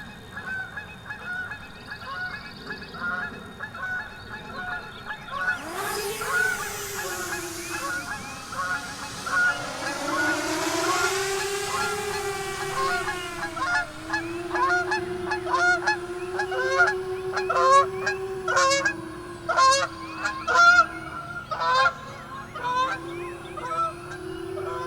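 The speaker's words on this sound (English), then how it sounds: "Some geese passing by." Several geese honk repeatedly as they fly past outdoors, their calls swelling and fading in irregular bursts, some near and loud, over a steady background hum.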